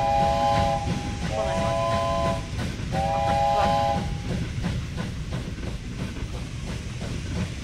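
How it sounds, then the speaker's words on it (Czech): A train in the video game Wobbly Life rumbles along and sounds a few bright steam-whistle blasts over a hissing, rattling background, with voices talking. "Naskočím na vlak!"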